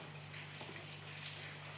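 Water poured in small amounts into a pan to make kuzhalappam dough, Kerala style; a soft, continuous trickling gush at low volume, steady throughout, with no talking.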